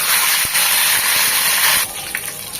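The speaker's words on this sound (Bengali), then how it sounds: "তাই পাতাটাকে ওইভাবে ভালোভাবে একটু তেলে ভেজে নেব" Curry leaves and four or five chillies frying in hot oil for a Bengali aloo bhorta, a steady loud hiss and sizzle that drops off near the end.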